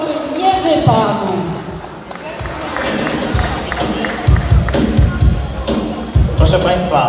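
A crowd at a first-aid and rescue demonstration by young firefighters applauds and cheers for the rescued victim, steady clapping with crowd noise and a voice talking over it.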